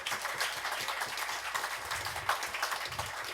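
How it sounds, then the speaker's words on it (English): Applause for Jonathan at a birthday hoot night, a steady wash of clapping from a crowd running the full length at moderate level, with a few brief voices mixed in. "Round of applause for Jonathan."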